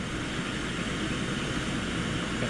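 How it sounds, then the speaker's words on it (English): Water at a full rolling boil in a JetBoil camp stove gives a steady, broadband hiss and rumble, close up and unbroken, with no talking. "This water is at a full boil."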